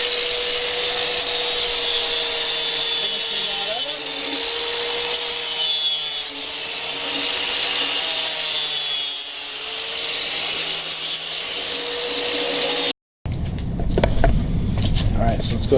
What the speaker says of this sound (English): We're just cutting a piece of piping 90 degrees to go up and under in below the headlight and turn up.